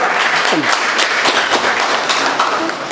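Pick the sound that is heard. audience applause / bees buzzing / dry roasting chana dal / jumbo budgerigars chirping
audience applause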